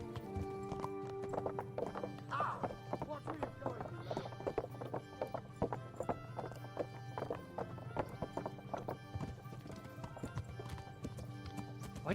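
Horse hooves clip-clop steadily at a riding pace in the medieval game Kingdom Come: Deliverance, a continuous close rhythm over music, with a brief whinny and a voice talking at moments.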